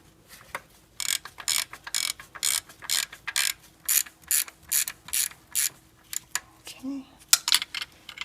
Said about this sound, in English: So use a long wrench. I'm going to use a 1/2-inch drive.